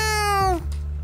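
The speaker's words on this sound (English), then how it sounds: "Meow. Oh, it's a little baby kitty." A kitten in the video game GTA 5 gives one loud, close meow: a bright, drawn-out cry that falls in pitch and fades, about half a second long, with no talking.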